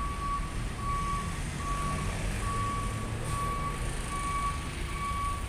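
Truck reversing alarm beeping steadily in a repeated on-off pattern at Merak ferry port at night, over a constant loud rumble of idling engines and vehicle traffic around the harbour.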